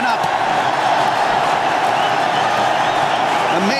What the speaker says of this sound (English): Crowd has woken up.